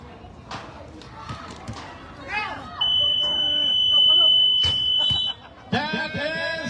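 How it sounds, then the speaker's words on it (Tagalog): A loud, sustained electronic buzzer ends a basketball game's third quarter, sounding for about two seconds over crowd noise and a commentator's voice, with ball bounces and shoe squeaks around it. "Buzzer na lang maririnig natin mga brothers."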